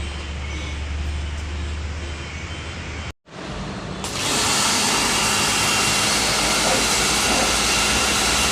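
Shampoo water is sprayed onto the engine of a 2012 Toyota Avanza G manual in a broad, steady hiss. A brief cutout breaks the spray, and it returns stronger and louder, continuous and close.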